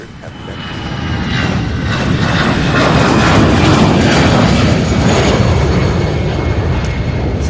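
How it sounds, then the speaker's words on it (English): An Airbus A319 airliner gets under way at Louisville's SDF airport, its jet engine roar swelling from a quieter start to a loud, sustained broadband rush that stays strong to the end, with faint voices underneath. "A319 getting a move on as that United Flight 4477 gets ready to land now"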